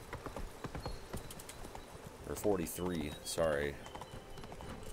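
A horse's hooves clip-clop steadily in The Witcher 3: Wild Hunt, joined midway by a loud whinny, while a player talks over the in-game gallop.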